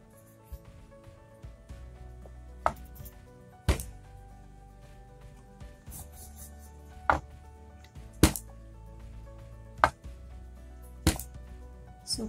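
Wheat flour kachori dough balls being rolled out on a board dusted with dry flour, with a rolling pin knocking sharply at roughly even intervals over a low, steady background hum.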